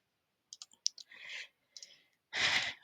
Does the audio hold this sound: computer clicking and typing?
yes